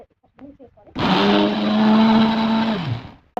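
An electric mixer grinder blends tomato, green chilli, garlic and salt for pudina chutney, starting abruptly after a few spoken words. It runs as a loud, steady whining motor roar for about two seconds, then cuts off.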